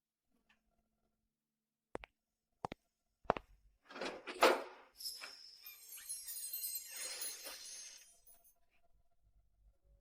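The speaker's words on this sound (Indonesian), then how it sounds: "Bisa buka pintu?" A door is opened after a few sharp knocks or clicks, followed by a longer creaking, sliding swish and rattle, close and moderately loud in an otherwise quiet room.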